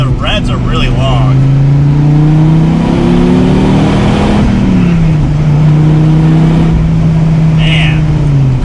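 A Dodge Viper engine, heard from inside the car, revs loudly and smoothly while accelerating through the gears, its rising drone dipping at a shift and then climbing again, with a voice talking over it.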